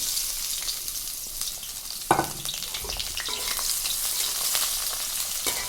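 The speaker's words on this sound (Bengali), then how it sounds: "তেলটা গরম হয়ে গেছে। এখন আমি কাঁচা লঙ্কার পেঁয়াজ দিয়ে দিলাম।" Onion and green chillies sizzle loudly in hot oil in a pan, with a steady crackle and a sharp clatter of stirring partway through.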